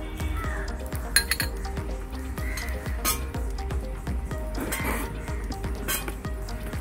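Knife chopping onion on a board, a steady rapid run of close, evenly spaced taps continuing over a constant background hum.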